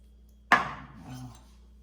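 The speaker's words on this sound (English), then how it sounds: "Give it a couple of little slices here" A knife slicing through half an avocado on a cutting board, one crisp cut landing on the board with a soft decaying thud, close and alone.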